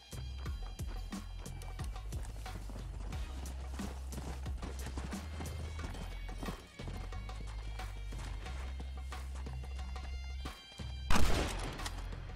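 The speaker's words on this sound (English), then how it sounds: "my horse is still walking" Horse hooves clip-clopping at a steady walk in a video game, a continuous rhythmic patter over a low game soundscape, with a brief louder burst near the end and no talking.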